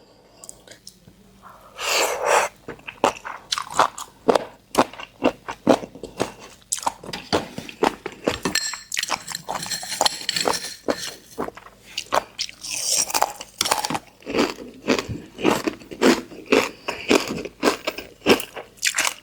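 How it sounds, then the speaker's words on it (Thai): Crisp biting and crunching of crunchy jellyfish eaten with chili dip and seafood sauce, a dense run of sharp close crunches and chewing sounds repeating in bursts, alone and loud. "ของแมงกะพรุนไทยเราอ่ะมันจะมีความแค่แบบ กรุบๆ แต่ไม่ได้มีความกรอบแบบนี้"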